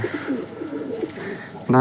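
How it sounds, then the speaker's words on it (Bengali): Pigeons coo in a home loft with a steady low murmur of calls, while a human voice talks over them and rises louder near the end. "পায়রাগুলো ঢুকিয়ে নিই, তারপর দেখাচ্ছি।"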